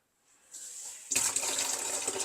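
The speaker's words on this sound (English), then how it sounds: "Run you just a tiny bit of water from your sink." Water from a kitchen sink faucet, turned on after clearing a clog: a faint trickle begins, then swells into a loud, steady gushing stream that keeps running to the end.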